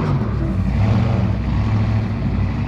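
A Ram 1500 on 37-inch Nitto Trail Grappler tires grinds slowly over a trail in first gear, a loud, continuous low engine drone with a rumbling, crunching texture from the tires, steady throughout with no speech.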